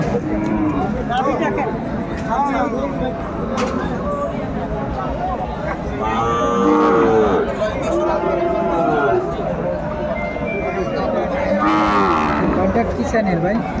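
Sahiwal calves moo repeatedly at a busy cattle market in Kurigram, their drawn-out calls rising over steady crowd chatter and people talking nearby.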